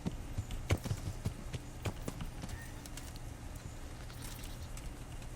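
Sir Radzik's horse clip-clops in the video game Kingdom Come: Deliverance, a faint run of irregular hoof knocks sounding at a distance under low ambient noise.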